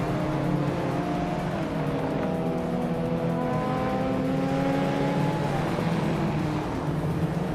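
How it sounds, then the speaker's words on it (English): AI-driven race cars in a racing video game roar around the track, several engine notes layered and shifting in pitch as they rev and hold speed, a steady, loud, continuous drone with no talking. "Hope you're ready to see some wild AI cars racing around like they've got something to prove."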